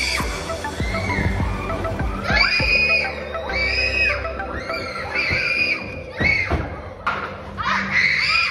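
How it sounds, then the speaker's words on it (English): Children screaming and shrieking in excited bursts while playing a game in a busy city setting, with thumps and crowd noise around them, loud and close throughout. "all they're doing is screaming and ducking"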